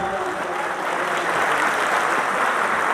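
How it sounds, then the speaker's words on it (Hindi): A crowd at a multilingual mushaira poetry gathering claps loudly and continuously, a dense wash of applause that holds steady for the whole stretch. "एक मरतबा जोरदार तालियां बजाए"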